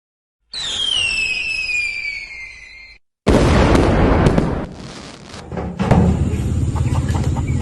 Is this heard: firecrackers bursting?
yes